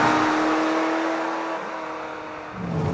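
A Ferrari F355 GTS with six-speed manual revs up loud and close, its engine note holding steady then dipping and climbing again near the end.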